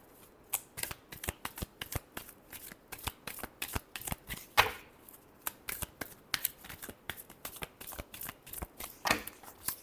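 Tarot cards are shuffled close up in a long run of quick, crisp riffling flicks, with short pauses between rounds and no talking.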